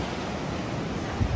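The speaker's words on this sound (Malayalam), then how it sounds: "കടലും അതിൻ്റെ തിരമാലകളും അടിച്ചടിച്ച് വരുന്ന ആ ഒരു ഇത്" Sea waves wash steadily onto Varkala beach, a continuous broadband surf rush with wind noise on the microphone, close and fairly loud, with no voices over it.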